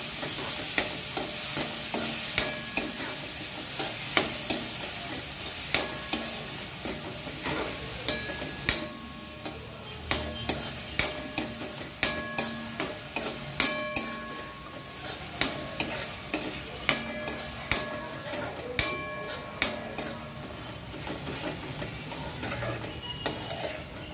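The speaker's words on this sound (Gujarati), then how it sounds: "જેને મેં ક્રશ કરી નાખ્યા છે અને હવે એને પણ સાતળશું। ધીમા તાપે થવા દેવાનું।" Crushed ingredients for sprouted-bean pav bhaji sauté over low heat, a soft steady sizzle punctuated by regular close spatula scrapes and clicks against the pan, with no talking.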